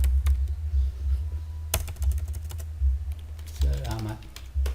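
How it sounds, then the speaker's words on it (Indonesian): Keystrokes on a computer keyboard, with quick irregular bursts of close clicks and short pauses between them, typed over a low steady hum; a brief voice sound comes in near the end. "kita ketik sesuatu di sini"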